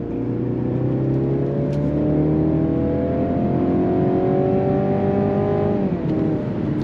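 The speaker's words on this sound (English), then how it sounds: "it definitely has a 4-cylinder sound, because it is a 4-cylinder" A 2023 Mercedes-Benz C300's four-cylinder engine pulls hard as it accelerates, with a smooth, rising drone that climbs steadily before dropping at a gear change near the end. No voices are heard over it.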